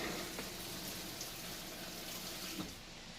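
Whirlpool Cabrio top-load washer, about three years old, running a normal wash cycle on warm with high spin speed, giving a steady watery sloshing and churning hum with faint splashes, no voices.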